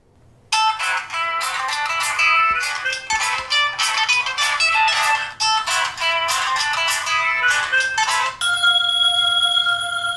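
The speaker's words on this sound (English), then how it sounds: "now we're going to be testing the same ringtones, but this time without the Bluetooth" A bright electronic ringtone melody plays loudly from a Doogee F3 phone's loudspeaker, a rapid repeating pattern of tones ending in a few sustained notes.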